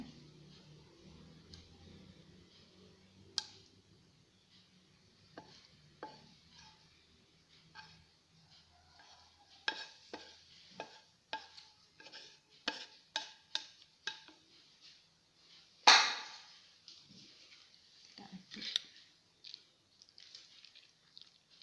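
Wilted sautéed onions stirred into a bread filling in a bowl give sparse soft squishes and clicks of a utensil, irregular and close, with quiet gaps between strokes.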